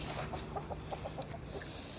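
Backyard chickens cluck softly in a quick run of short, evenly spaced notes, faint and somewhat distant over a steady background hiss.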